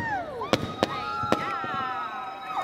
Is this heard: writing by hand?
no